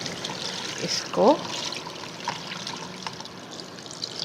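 Water is poured over raw mangoes in a strainer to wash them for pickle. A short, soft trickle is heard, with a brief spoken word near the start.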